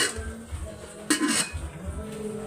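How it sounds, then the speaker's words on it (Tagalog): A cooking pot handled in an old house, with soft metallic knocks and one brighter clank of metal in the middle, fairly close, over low background hum. "yung kaldero namin, nilinisan ko na"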